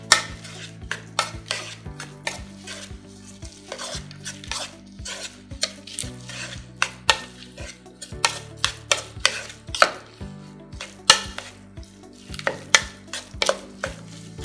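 Beef tenderloin seasoning being mixed with cracked black pepper, heard as brisk rhythmic clinks and scrapes of a utensil against a bowl over a steady tonal background hum, with no talking.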